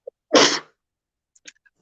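A single sharp sneeze bursts out close and loud, followed by a brief quiet moment with faint small sounds.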